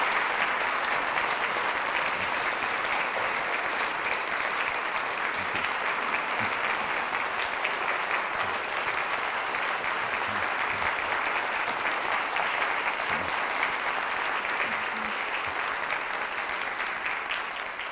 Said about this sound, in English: I didn't mean to interrupt the applause there.